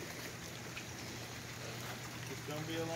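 Steady rain patters on a new tarp outdoors near goats, forming a constant, soft hiss of drops with a faint low hum underneath.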